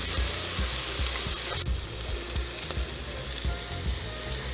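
Elephant garlic, shallot and spices fry in a pan with a dense continuous sizzle close up, punctuated by regular soft tapping knocks of a utensil against the pan; no one speaks.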